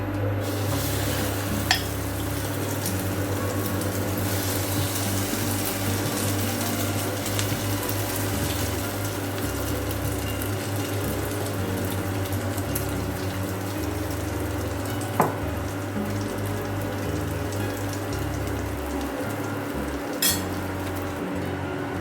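Egg omelette layer cooking in an oiled pan, a steady close sizzle running throughout with a few light clinks of utensils against the pan.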